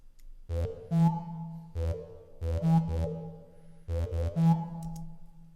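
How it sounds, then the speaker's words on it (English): A synth bass line centred on E in a Phrygian progression plays alone in a repeating pattern of short and held low notes, with a clear pulsing rhythm and no voices. "Here's the bass part."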